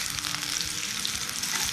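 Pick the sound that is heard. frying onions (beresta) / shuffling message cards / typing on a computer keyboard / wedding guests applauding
frying onions (beresta)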